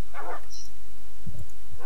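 Dogs in the video game Expicraft give a few short barks and yips, near and fairly clear, over a steady low hum with no talk.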